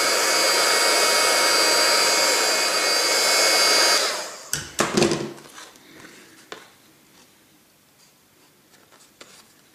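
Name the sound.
heat gun heating Creaflexx thermoplastic sheet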